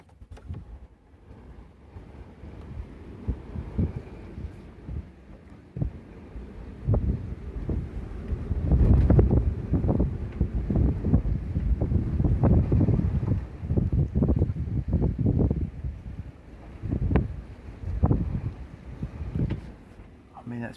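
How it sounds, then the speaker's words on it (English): Strong wind of about 30 knots gusts over a sailboat at anchor, roaring and buffeting the microphone in uneven surges that build and fade, with no talk. "Don't you hear the wind?"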